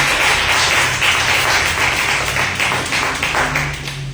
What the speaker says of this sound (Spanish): ¿cuánto le da un aplauso a Cristo?